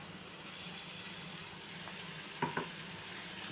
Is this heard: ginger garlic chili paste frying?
yes